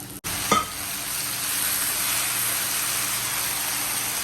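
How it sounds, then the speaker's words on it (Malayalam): Squid pieces dropped into a hot pan with onions for a Kerala-style thoran, giving a brief splash then a steady, loud sizzle and hiss of frying that continues alone. "ഇനി നമ്മുടെ വേച്ച് വെച്ചേക്കുന്ന കണവ അല്ലെങ്കിൽ കൂന്തൾ ഇതിനകത്തോട്ടിട്ട് ഇട്ട് കൊടുക്കാം"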